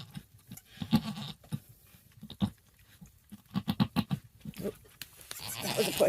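A mother goat and her newborn kid bleat back and forth during a kidding, short calls trading off in irregular bursts at close range, with quiet gaps and some background voices.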